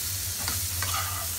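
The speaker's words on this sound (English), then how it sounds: "They have been frying for 5 to 6 minutes now." Broccoli and potato pieces frying in a pan with roasted cumin powder, stirred through a continuous loud sizzle with a few scraping strokes and no talking.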